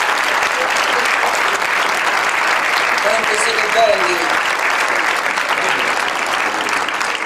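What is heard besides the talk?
audience applause in theatre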